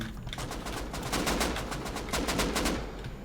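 Rapid automatic gunfire in the video game Rust, a dense string of sharp cracks in quick rhythm, loud and close, running steadily through the whole stretch.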